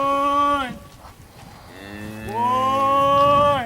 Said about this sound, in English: Just a fancy set of steers.